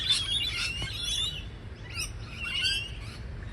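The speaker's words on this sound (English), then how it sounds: "Oh, pretty birds." High, thin lorikeet chirps come in short bursts, fairly close, over a quiet low background hum, in Australia.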